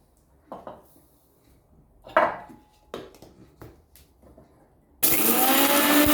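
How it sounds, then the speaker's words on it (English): A few soft knocks and clatters of handling come first, then an electric grinder whirs loudly into action on cooled roasted spices for a salmon curry, buzzing steadily through the final second. "the spices are already cooled down. Let's grind them up."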